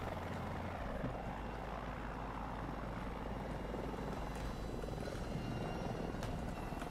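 A MAV helicopter in the Battlefield 2042 video game flies with a constant thudding rotor chop and engine roar, loud and close throughout, with no voices over it.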